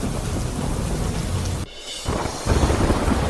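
Heavy monsoon rain pours down loudly in a dense steady roar, broken by a brief drop and then a louder surge of rumbling thunder and downpour.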